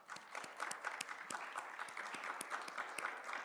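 Meeting attendees give quiet applause, a small group clapping with fairly regular, soft, distinct claps for a few seconds.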